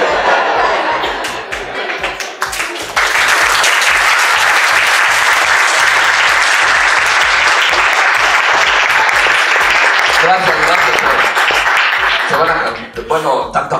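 Audience at a stand-up comedy show bursts into loud, sustained applause and cheering that swells after a few seconds of laughter and murmuring, holds steady, then fades near the end.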